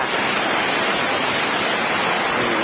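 Heavy rainwater pours out of a drainage pipe in a constant, close, hissing rush that holds at full strength from start to finish, alone with no talk.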